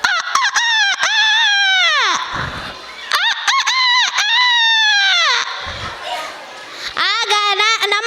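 A voice imitates a rooster crowing, with several loud, close, drawn-out calls rising and then falling, separated by brief pauses, in a school day performance.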